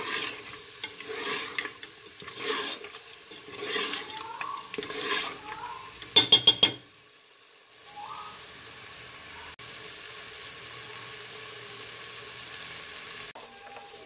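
Mutton masala being stir-fried in a pot with coriander powder and ginger-garlic paste, a steady close scraping and sizzle with stirring strokes, a brief clatter of the spoon against the pot, then quieter frying.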